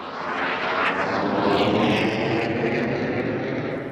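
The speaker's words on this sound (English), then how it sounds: "Jonathan Whaley is one of the most colourful and popular display pilots on the airshow circuit, and so is his Hunter, Mr. Demeanour" Hawker Hunter jet roaring past during a seaside airshow display, a loud sustained broadband rush that swells and holds steady across the pass, with no talk.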